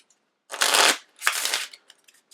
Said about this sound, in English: We'll give the AI deck a shuffle.